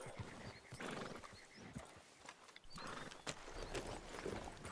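Horse whinnies ring out a couple of times alongside clip-clopping hooves in a video game, with a busy synthetic backdrop typical of game audio.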